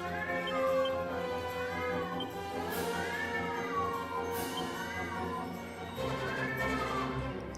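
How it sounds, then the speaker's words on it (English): A cat meows repeatedly in long, drawn-out, rising and falling wails, several calls in a row over steady game music and background sound. "Cat's having a meltdown."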